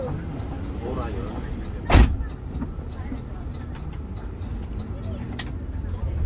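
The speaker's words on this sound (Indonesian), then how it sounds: "Wih, disusul sama bus HDX Trans." An HDX Trans intercity bus overtakes on a road in Sumatra, heard from inside another moving long-distance bus: a steady low engine and road rumble with one sharp, brief rushing burst as it passes close by.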